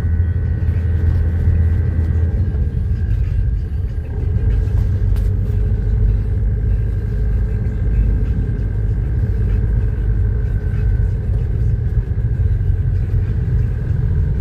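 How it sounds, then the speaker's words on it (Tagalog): Steady traffic rumble from many cars crowding East Bank Road in Pasig in the aftermath of Typhoon Carina, a continuous loud road noise with engines idling and moving, no voices. "Daming sakyan sa East Bank Road, Pasig."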